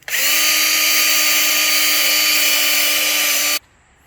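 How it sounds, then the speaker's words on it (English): A drill spinning a wire brush scrubs rust off the deck of a 1980s John Deere 180 mower, a loud steady high-pitched whine running continuously for about three and a half seconds before stopping abruptly. "So I got a little wire brush on the end of my drill, and I'm just going to go around the deck and try to get some of this rust off it."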